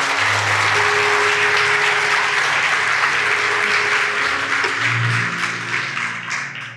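A church congregation bursts into sustained clapping during a sermon, a dense roar of hands mixed with sustained tones from instruments, tapering off toward the end.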